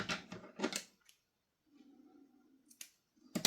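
Scissors snip yarn flush against a crocheted amigurumi carrot: a few crisp, close metallic clicks spaced apart, with near-silence and a low hum between cuts.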